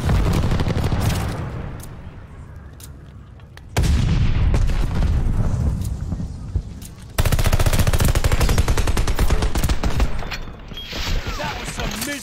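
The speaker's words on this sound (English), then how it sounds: "they're sending mortar shells!" Mortar shells and heavy gunfire pound away in a combat video game, with loud booming blasts and dense rapid firing in several sustained bursts, and voices are heard now and then.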